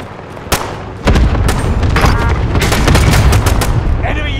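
Cluster strike explosions in Call of Duty Warzone on Rebirth Island: a sharp boom, then a dense run of repeated blasts and gunfire-like cracks rolling on loudly for several seconds, with a voice speaking briefly.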